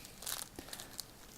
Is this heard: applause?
no